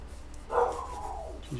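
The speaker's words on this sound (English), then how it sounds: "Oh, my pup's barking." A single dog bark or yelp rings out faintly from outside at night, brief and somewhat distant against a quiet background.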